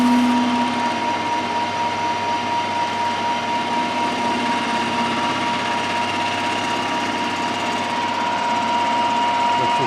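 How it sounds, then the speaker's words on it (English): Weld spatter being ground off a repaired tractor pin, a loud, steady, high-pitched machine whine that runs unbroken for ten seconds, with no talking. "Which is basically taking the weld spatter off there."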